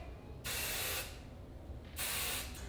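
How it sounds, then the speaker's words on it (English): Two short, close bursts of hairspray hiss onto styled hair, the first about half a second long and the second slightly shorter, with quiet room tone between them. "Now I'm just gonna give it a quick spritz of hairspray."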